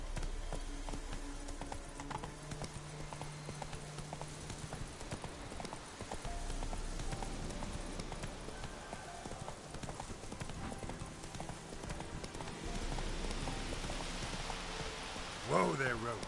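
The horse Roach trots in a PS4 video game, its hooves clip-clopping in a steady rhythm over a constant patter of rain, moderately loud and close.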